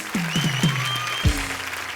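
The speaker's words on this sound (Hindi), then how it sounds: "खैर नीति चोपड़ा के लिए जोरदार तालियां हो जाएं।" Studio audience at an Indian stage comedy show applauds for Neeti Chopra, a steady wash of clapping with music tones and a brief voice rising through it.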